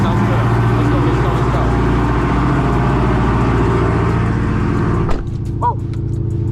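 A 1000hp Dodge Hellcat Redeye roars hard from a launch, its loud engine snarling steadily for about five seconds before easing off, with excited voices talking over it.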